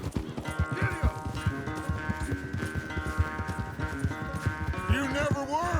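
Horse hooves clopping at a gallop in the Red Dead Redemption video game, a steady rapid rhythm close by under talk and music, with a whinny near the end.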